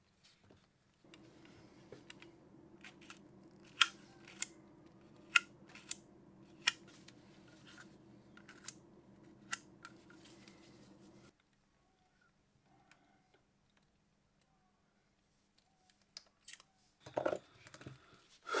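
Small clicks and taps of a Nikon L35AF2 compact film camera being put back together by hand, sharp close clicks over a low hum, then a quiet stretch and a few more handling knocks near the end.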